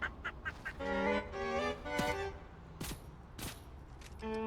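Ducks honk and quack in a series of short nasal calls, some overlapping, fairly close and moderately loud, with scattered clicks and thumps between them and no clear talk.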